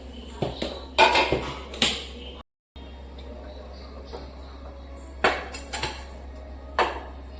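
A metal lid set back onto a cooking pot, sharp clanks and rattles in two short bursts separated by a quieter stretch with faint household background.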